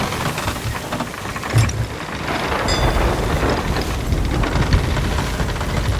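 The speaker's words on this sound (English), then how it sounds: "There's lightning right there, just smack down right next to us" A thunder and lightning storm at sea in Sea of Thieves: steady hissing rain and wind, with a heavy thunder crack about midway and another low rumble near the end. No voices are heard.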